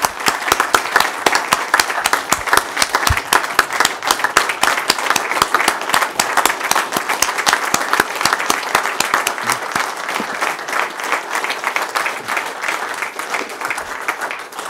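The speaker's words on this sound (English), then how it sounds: "we'd like to give you a round of applause for what you've done." A room at a wildlife commission meeting applauds an outgoing commissioner, loud, sustained clapping from many people with sharp individual claps standing out, continuing for about fifteen seconds and tapering gradually.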